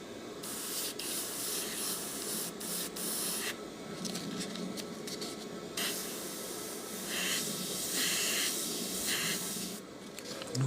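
Airbrush spraying paint in steady hissing bursts, near and continuous with brief pauses between passes and no talk.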